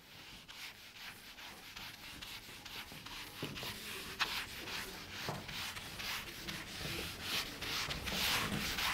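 Writing on a board being rubbed out, a continuous soft scratchy rubbing in repeated short strokes with occasional taps, near but quiet, with no voices.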